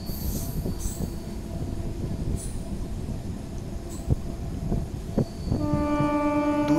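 Train running on rails through misty green fields near Goghat railway station, a steady rumbling roll with squealing wheels and clanks, then a long horn blast sounding loudly near the end.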